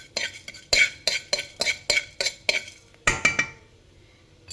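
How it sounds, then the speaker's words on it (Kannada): Fenugreek and cumin seeds dry roasting in a pan, with about a dozen quick rhythmic scraping and clinking strokes of a spoon against the metal, close and clear, followed by a short quiet tail and no voices. "ಇವಾಗ 1 ಟೇಬಲ್ ಸ್ಪೂನ್ ಆಗೋಷ್ಟು ಮೆಂತೆ ಮತ್ತು 1 ಟೇಬಲ್ ಸ್ಪೂನ್ ಆಗೋಷ್ಟು ಜೀರಿಗೆ, ಸ್ವಲ್ಪ ಡ್ರೈ ರೋಸ್ಟ್ ಮಾಡ್ಕೊಳ್ಳಿ."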